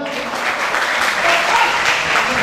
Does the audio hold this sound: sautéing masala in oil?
no